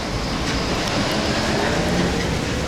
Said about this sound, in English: I guess we're in this train now.